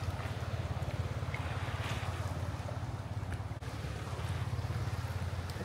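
Waves wash onto a beach at high tide under gloomy skies, a steady low surf with a constant, rumbling wind across the microphone and no voices.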